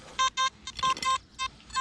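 Short electronic beeps repeat in quick bursts, bright and tonal, with faint background noise between them.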